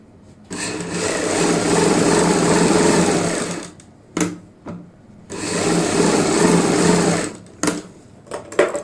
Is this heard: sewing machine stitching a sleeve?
yes